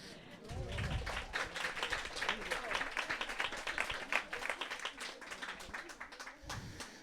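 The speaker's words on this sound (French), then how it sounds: "il y a des applaudissements, vous pouvez y aller" Audience applause at a literary festival's closing interview, a moderate, even patter of many hands clapping, somewhat distant, with a voice speaking at the start and end.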